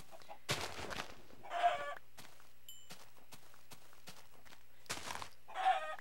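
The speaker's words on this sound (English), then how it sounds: "just so many chickens." Clucking chickens in a Minecraft-style UHC game, a few short bursts of squawks spaced apart, with sharp footstep-like clicks and taps between them over a quiet background.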